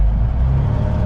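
A Peterbilt 379 semi truck from 1990 with a 475 twin turbo Cummins diesel runs with a steady, deep, close engine drone for a moment.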